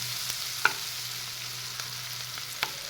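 Onions being softened in a pan for an eggplant curry give a soft, steady sizzle. A few light taps of a spatula or spoon break in now and then.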